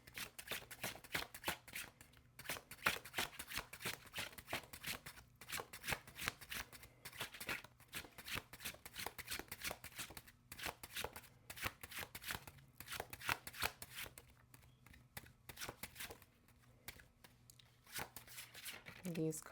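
Tarot cards are shuffled continuously in quick, crisp riffling and slapping bursts, close but soft, with a few brief pauses during a reading.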